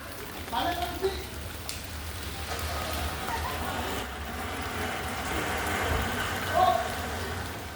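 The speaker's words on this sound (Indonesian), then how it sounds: "Hujan deras disertai petir yang mengguyur wilayah Gianyar pada Jumat 2 Januari memicu sejumlah bencana" Heavy rain pours steadily in Gianyar during a thunderstorm, a dense even hiss throughout with an engine idling underneath and a voice talking over it.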